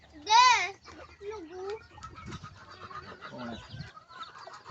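On a backyard farm kept with ducks, chickens and goats, a bird gives one loud, nasal call, followed by softer intermittent calls and clucks mixed with nearby voices.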